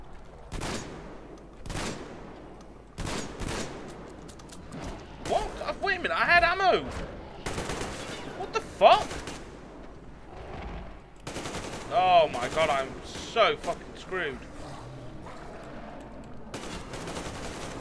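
Shotgun fire in the first-person shooter Metro Exodus: sharp, booming blasts recur every couple of seconds, loud and close, mixed with clattering impacts and game effects, and a voice talks between shots.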